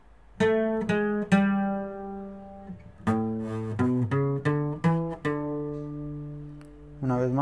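Bright plucked notes from a requinto guitar play a song slowly, spaced out and ringing between phrases, ending on a trembling tremolo, close and solo.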